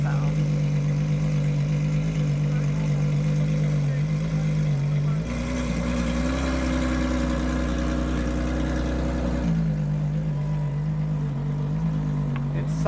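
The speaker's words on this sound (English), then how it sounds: "It's such a growly car." A car engine idles with a deep, steady growl, its pitch dropping lower for a few seconds in the middle before settling back, no voices over it.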